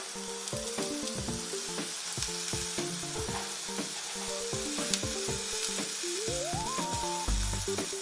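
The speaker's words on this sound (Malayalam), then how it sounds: "അപ്പോൾ നമുക്ക് നന്നായിട്ടൊന്ന് സാധാരണ ചമ്മന്തി പൊടിക്കൊക്കെ വറുക്കും പോലെ വറുത്തെടുക്കണം" A steady sizzle of coconut and curry leaves dry-roasting in a hot pan, with repeated scraping and stirring clicks from a utensil throughout, no voices.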